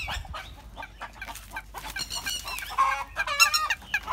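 Chickens clucking in a rural Vietnamese countryside setting, several birds calling in repeated short clucks and squawks that grow louder and busier toward the end, close by with no talking.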